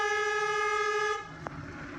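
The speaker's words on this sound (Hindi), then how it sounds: "लॉन्ग हॉर्न पुश करो" A long, steady car horn blares for over a second at an intersection on an empty morning road, then cuts off, leaving low road rumble and a brief click.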